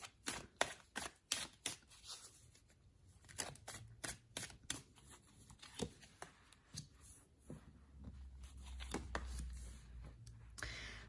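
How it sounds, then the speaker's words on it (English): A deck of tarot cards is shuffled by hand, giving quiet, irregular riffling snaps and soft slaps in bursts, close up, with a low hum rising near the end. "let's give the cards a good shuffle"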